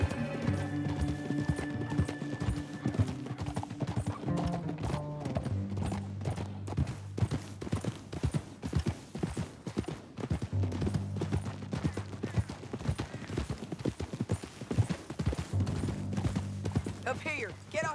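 Horse hooves clip-clop at a gallop in Red Dead Redemption 2, a dense rapid rhythm running the whole way under a low musical drone, with a brief whinny near the start.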